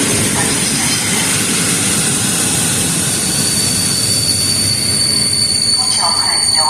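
Morning trains pass through Skarżysko station in Poland, a loud continuous rumble and roar of rolling wagons with high metallic wheel squeal and hiss layered on top throughout.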